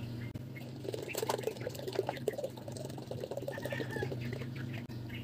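One liter of water poured into a container while mixing homemade pet shampoo, a steady close splashing trickle lasting several seconds.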